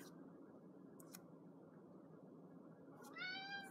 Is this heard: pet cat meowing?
yes